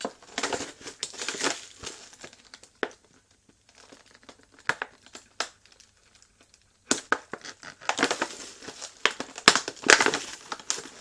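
Plastic and cardboard packaging of an Iron Man 3 Mark 42 mask being pulled open, with bursts of crinkling and crackling that come and go, go quiet for a stretch, then return as a busier run of rustling near the mic.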